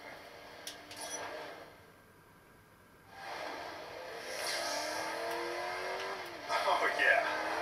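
A powerful car engine in a racing video game streamed through OnLive rumbles and then revs higher and louder toward the end, heard under steady talking voices.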